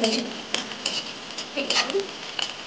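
Bay leaves, cardamom and cinnamon stirred in a pan, giving light clinks and scrapes of a spoon at close range with a faint sizzle beneath.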